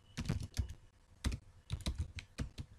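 Bursts of typing on a computer keyboard while writing PHP code, quick irregular key clatter in clustered runs with brief pauses, close and fairly quiet.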